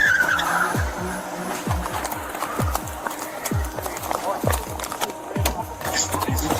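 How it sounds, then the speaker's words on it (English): A car skids on a Dallas street before striking a police squad car, with repeated rough tire scrubs and engine surges running throughout and people talking over the noise. "He just hit a squad car."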